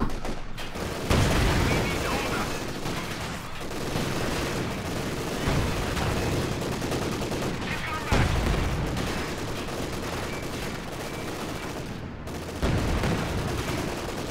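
Rifle gunfire in Company of Heroes 2, a World War II strategy game played as Germany in multiplayer, cracking in dense bursts over a constant roar of battle, with heavier booms recurring every few seconds.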